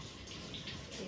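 Vegetables, including onions and tomatoes, are rinsed under running tap water, giving a soft, steady splashing hiss that stays faint and even throughout.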